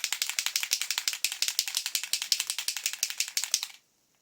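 A Kaiser Mist Lime Iridescent spray can is shaken rapidly, its mixing ball rattling in a steady, fast clacking rhythm close up for several seconds before stopping abruptly into silence.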